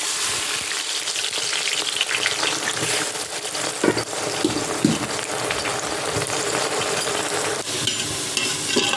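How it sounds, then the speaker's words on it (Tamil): Onions frying in oil for biryani: a dense, continuous sizzle with occasional stirring clatter and a few louder scrapes, close and fairly loud throughout, no voices. "அதில் வந்து கொஞ்சம் எடுத்து ஃப்ரை பண்ணி எடுத்து வச்சுக்கலாம்"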